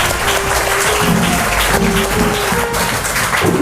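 A school audience at a Hindi children's quiz show bursts into loud, sustained clapping for a correct answer, a dense patter of many hands filling the room.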